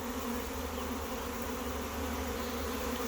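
A honey bee swarm hums in a dense, steady drone, with many wings buzzing together continuously and evenly, with no voices.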